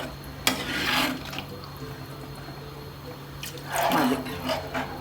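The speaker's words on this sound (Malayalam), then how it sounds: "കുറച്ച് വെള്ളം ഒഴിച്ച് കൊടുക്കാം." Water poured into a pot of old-style fish curry made without coconut, a splashing pour near the start and another toward the end, with quieter liquid sounds between.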